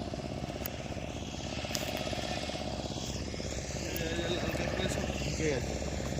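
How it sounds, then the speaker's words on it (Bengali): A motorbike engine drones steadily close by, its low rumble continuous and slightly rising, while people talk over it outdoors near a beach. "বাইক চালাচ্ছে দেখ"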